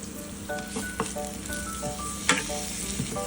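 White onion sizzles and fries in a pan in a small kitchen, a steady crackling hiss with intermittent stirring clicks and scrapes, close and moderately loud with no talking.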